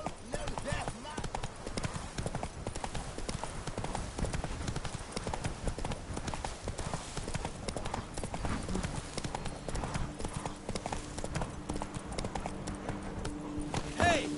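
Horse hooves clip-clop steadily at a gallop in the video game The Witcher 3, close and continuous under a constant layer of game ambience and music, with occasional talk over the riding.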